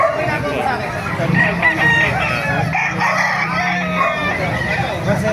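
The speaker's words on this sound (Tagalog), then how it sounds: "Tiyangge ng mga manok." Roosters crow repeatedly over a noisy crowd of people talking, with clucking and other fowl sounds filling the busy chicken market air in Bocaue, Bulacan, Philippines.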